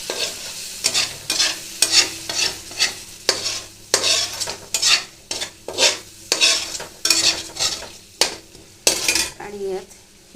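Mixed vegetable masala with tomato and spices fries in a pan while a metal spoon stirs it, giving rhythmic scraping strokes about once a second over a sizzling bed, close and loud, with no talk.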